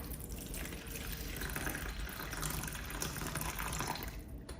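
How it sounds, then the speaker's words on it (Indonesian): Water poured steadily into a container, a continuous close rushing and splashing for several seconds with no talk. "Jadi ini ada air tadi, gue akan tuang."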